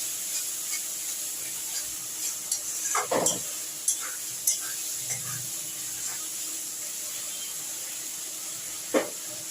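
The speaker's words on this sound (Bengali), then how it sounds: "এবার দেখুন আমার এই মশলা কষানো হচ্ছে।" Spice paste for a banana flower dish with prawns and coconut sautéing in a pan: a soft, even sizzle with a handful of scraping stirs, no talking.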